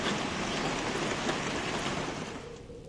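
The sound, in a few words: rain falling in The Glass Staircase video game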